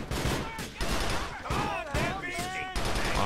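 Rapid bursts of gunfire in GTA IV: The Lost and Damned crackle almost continuously, loud and close, with brief gaps and a voice talking over parts of it.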